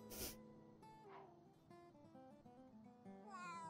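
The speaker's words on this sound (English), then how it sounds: "The cat doesn't like her." A cat in The Sims 3 video game gives a short, close meow with a drawn-out, slightly wailing tone, heard over light tonal game music and interface chimes.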